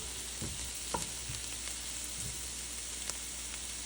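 Garlic sizzles in a pan over medium-high heat, a soft continuous frying hiss with occasional light clicks and scrapes as it is stirred, no voices present.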